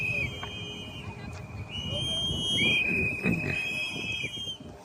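Whistles blow at an ICE protest, several long sustained shrill tones overlapping amid outdoor crowd noise and traffic rumble, moderately loud and continuous.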